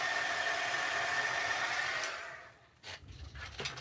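A heat embossing tool blows hot air at a craft desk, a steady close whirring hiss that cuts off partway through, followed by a few quiet handling sounds.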